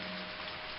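Steady rain pouring down in a village setting, a dense continuous hiss with no breaks, moderately loud and close, with no talking.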